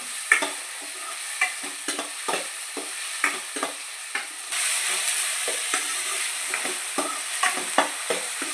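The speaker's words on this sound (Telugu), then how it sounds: "టమాటా కూడా ఒక 3 మినిట్స్ వేగాలండి." Tomatoes frying in a pan for an Andhra-style chicken curry, a steady sizzle with repeated sharp scraping strokes of a stirring spoon, the hiss swelling louder midway through.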